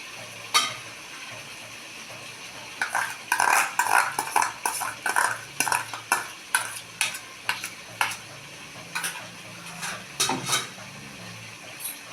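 Washed Gobindobhog rice being stirred into fried katla fish head in a pan, with a spoon knocking and scraping in quick repeated strokes over a soft sizzle of frying.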